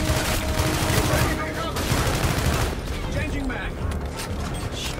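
Rapid automatic gunfire in Call of Duty: Infinite Warfare, dense continuous spraying bursts with mechanical rattle, loud and close, under a player's excited talk.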